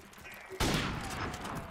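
A burst of pistol gunfire in a Modern Warfare Remastered free-for-all match on the Shipment map, sudden and loud, followed by a noisy sustained wash of game sound.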